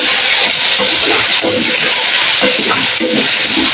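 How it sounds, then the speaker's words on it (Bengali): Potato pieces fry in hot oil, a steady loud sizzle running throughout as they are stirred, with soft scraping and clinking of the utensil against the pan. "আলুটাকে আমি একটু ভালো করে নেড়ে নিচ্ছি।"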